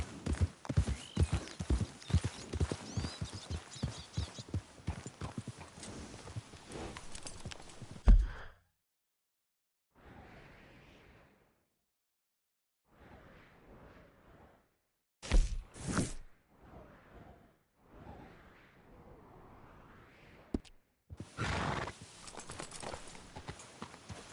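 Horse hooves clip-clop rapidly at a gallop in Red Dead Redemption 2, loud and steady for about eight seconds, then broken bursts of movement, swishes and a short neigh after a quiet gap.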